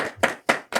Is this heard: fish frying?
no